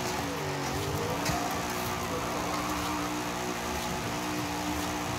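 A powerful 800-horsepower smoke-machine car in Forza Horizon 5 rumbles steadily near idle, a continuous mid-low engine drone with a slight rise early on, close and without talk.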